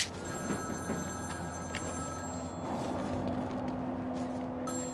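A telephone rings in Batman: Arkham City, a steady electronic bell tone repeating through the whole stretch over a low ambient game background, with no talking.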